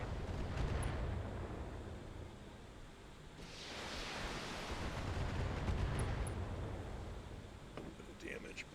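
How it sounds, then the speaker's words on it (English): Mech weapons fire in the BattleTech video game, with deep rumbling booms and a sweeping blast of noise that swells and fades, continuous and heavy across several seconds. "Firing on multiple enemies."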